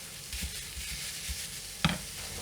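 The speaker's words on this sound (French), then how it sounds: "On va les gratter un peu et on va laisser cuire environ 5-6 minutes." Ground beef browns in a pan for a beef lasagne with béchamel, a soft steady sizzle running throughout with a few low scraping stirs and one brief clunk near the end.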